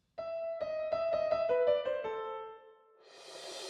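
A short, clear keyboard melody plays alone, a quick run of single notes stepping downward and ending on a held tone before a soft hiss.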